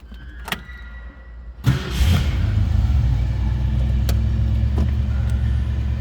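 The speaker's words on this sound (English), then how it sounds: "Let's go ahead and fire this up so you can hear it run." 1966 Ford Mustang convertible cranks and fires up from cold, a few clicks and a short starter whir giving way to a deep, steady idling rumble up close, no talking.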